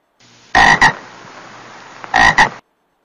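A frog croaks in two short bursts, each a quick double croak, loud and close, with a faint steady hiss between them.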